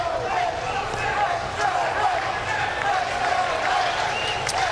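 A lively crowd at a Mets spring training baseball game makes a steady roar of cheering, with a broadcast commentator talking over it.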